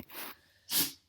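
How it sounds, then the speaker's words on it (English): A small, soft sneeze, close and quiet, with a brief breathy intake before the sharper burst of air. "She's sneezing"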